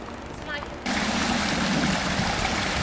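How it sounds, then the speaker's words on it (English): A waterfall in a steep hillside garden sends out a steady, dense rushing roar that starts abruptly and continues loud and even, after a brief moment of a voice speaking over quieter background. "The view above the waterfall tells its own story."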